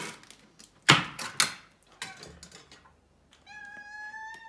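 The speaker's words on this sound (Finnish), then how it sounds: "Sori kun kissat vinkkuu." Pet cats meow in a home kitchen. Several sharp, close cries come early, then a longer drawn-out meow rises at the end, with small handling clatter in between.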